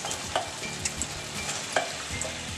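Vegetables cooking with spices in a pan for Indian pav bhaji: a steady sizzle and frying hiss with soft scraping and stirring clicks, close up, with no talk.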